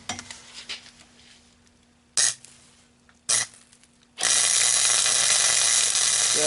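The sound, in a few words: wire welding new flanges on an exhaust pipe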